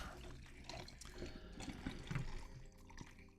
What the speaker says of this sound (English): just the sound of the pouring water?